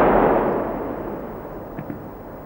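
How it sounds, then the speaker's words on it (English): A HEAT-T round fired at a NATO heavy triple armour target with an ERA module produces a loud, broad boom that decays slowly into a long rumbling tail, with a couple of faint pops near the end. "Heat-T round against a NATO heavy triple with an ERA module."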